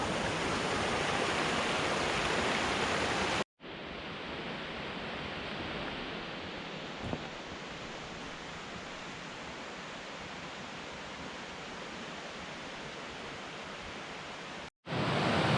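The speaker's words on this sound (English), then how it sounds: "Hope you can hear me over this waterfall." A roaring waterfall on a Colorado mountain hike, a steady loud broadband rush that stays close and constant, cut by two brief dropouts, with no talk audible over it.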